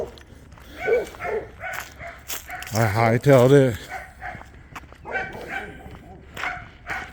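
A dog barks in a short burst of a few yips between stretches of someone talking; the barking sounds close and fairly loud.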